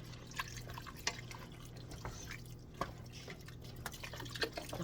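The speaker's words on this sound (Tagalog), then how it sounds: "Tapos lagyan ko siya ng tubig." Water being added to a pot of pork and beans with ham, giving soft dripping and splashing sounds over a steady low hum, with no talking.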